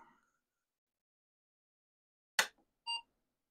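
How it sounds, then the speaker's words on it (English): After near silence, a sharp click is followed by a single short electronic startup beep from an Apple II computer, clear and close in an otherwise quiet room. "Got the beep, that's a good sign,"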